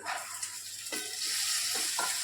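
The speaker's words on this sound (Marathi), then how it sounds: "चवळी चांगली मिक्स करायची आहे" Cowpeas with turmeric are stirred in a hot sizzling pan, a steady frying hiss with a few scraping strokes of the spoon, close and alone.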